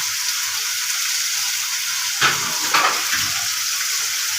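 Fish being sautéed in a pan with potatoes, a steady close sizzle with a couple of brief clattering stirs partway through, no talk.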